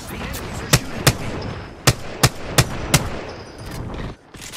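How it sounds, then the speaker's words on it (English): Enemy gunfire in the video game Apex Legends: six sharp, loud shots fired in irregular bursts over a steady game background, fairly close and with no voices over them. "The enemies are shooting at me."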